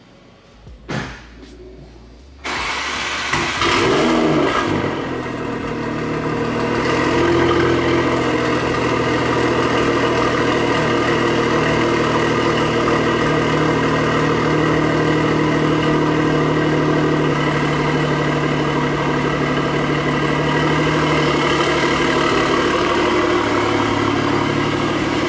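A BMW M340i engine starts after a door thunk and settles into a steady, loud idle with a rich, even drone that holds close and continuous, with only slight swells in level.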